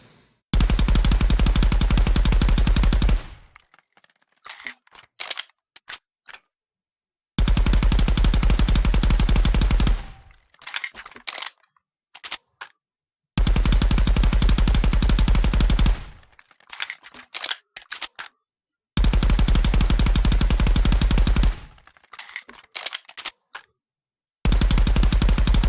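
Bursts of G36C rifle fire in the shooter game Contractors, loud sustained automatic volleys of about three seconds each, repeating four times, with short scattered single shots and clatter in the gaps between.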